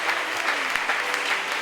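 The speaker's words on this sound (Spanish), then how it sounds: "damos un fuerte aplauso al Señor en esta" A church congregation claps loudly and steadily during an Easter Sunday service, a dense wash of applause with no voices standing out.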